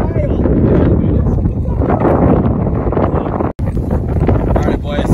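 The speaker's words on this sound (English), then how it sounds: "It's so windy!" Strong wind buffets the microphone in loud, rough gusts at an old barn, briefly cutting out once, with a voice faintly mixed in.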